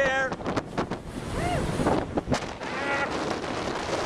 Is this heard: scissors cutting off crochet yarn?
no